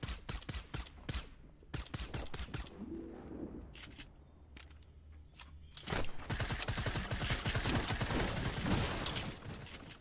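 Rapid gunfire bursts in a Fortnite Team Rumble match, crackling in quick volleys with short pauses before a long, dense stretch of sustained automatic fire near the end.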